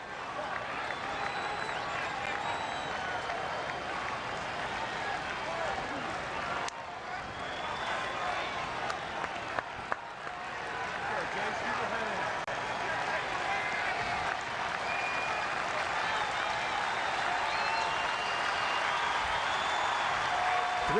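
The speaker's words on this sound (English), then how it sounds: "Crowd didn't like that call" Sustained crowd roar at a Cardinals versus Phillies baseball game, a dense, steady wash of voices and some clapping reacting to an umpire's call, building slightly louder toward the end, with a commentator talking over it.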